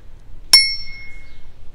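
A single bright ding from the bell on an Engwe EP-2 Pro electric bicycle, struck once and left to ring out in a clear, slowly fading tone against a quiet background.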